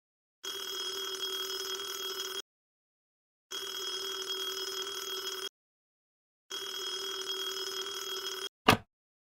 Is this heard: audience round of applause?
no